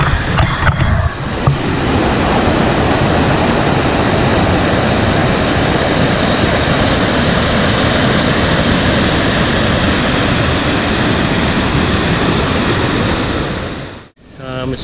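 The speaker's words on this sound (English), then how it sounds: "I don't know if you can hear my voice because the water is thundering." Rushing river water pours over a thundering waterfall at a short canoe portage in the Point Grondine area. A loud, steady, close roar fills the whole stretch and cuts off sharply near the end.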